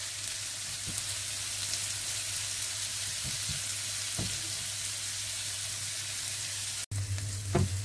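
Onion frying with salt in a pan until it starts to caramelize, giving a steady, even sizzle with a few faint stirring taps, continuous and close with a brief cut near the end.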